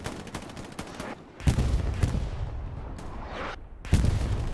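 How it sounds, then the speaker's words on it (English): Artillery barrage in the World War II shooter Hell Let Loose, with dense overlapping booms and gunfire crackle rolling continuously, a heavier cluster of impacts landing near the start and again toward the end. "Artillery falling into the positions of Cerberus"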